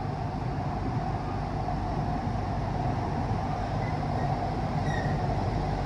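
Kolkata metro train running in the tunnel under the Hooghly river, a steady loud rumbling drone of wheels on track with a faint high squeal near the end, no talk.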